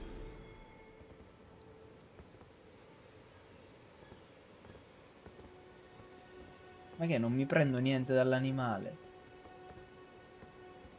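Steady rain in the Elden Ring game world patters softly throughout as a faint, even hiss, with a voice speaking briefly over it partway through.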